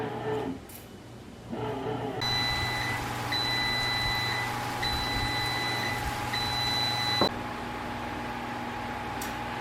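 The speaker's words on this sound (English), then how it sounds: "I think I heard the beeping noise." A bread machine beeps in a steady series of evenly spaced electronic bursts when the bread is finished, over a constant mechanical hum, then stops abruptly with a click.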